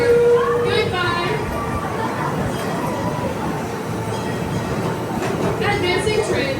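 The Iron Rattler roller coaster train at Six Flags Fiesta Texas rolls out of the station on dispatch, a continuous rattling rumble of wheels on track with crowd chatter and voices around it.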